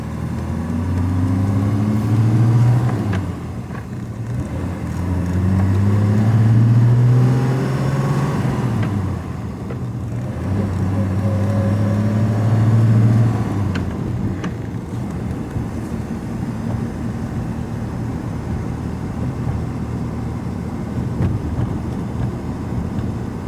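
A 1962 Mercedes-Benz 300d limousine with fuel injection cruises slowly in fourth gear, its steady low engine drone and road rumble continuous and close, with some wind noise and no voices.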